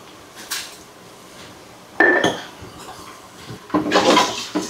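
A spoon stirs food in a cooking pot on a home stove, giving a few close clanks and scrapes against the metal, with a louder clatter midway and another burst of stirring near the end; no talking.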